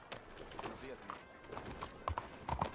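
A horse in a video game clip-clops close by with uneven hoof knocks over a steady low background, while someone talks over it.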